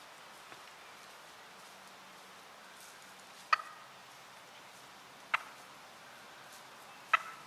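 Wild turkey gobbling outdoors during a spring hunt, three short sharp gobbles spaced a couple of seconds apart, moderately distant, over faint rustling and breeze with no talk.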